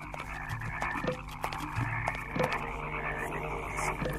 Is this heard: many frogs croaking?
yes